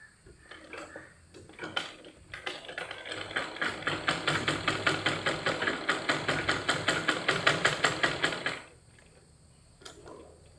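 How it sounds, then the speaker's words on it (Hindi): A sewing machine stitching a frock, running in a fast steady rhythmic chatter for several seconds with a brief whir at the start and a short burst near the end, close and clear. "ये वाला हिस्सा यहाँ रख के हम इसे सिलाई लगा देंगे।"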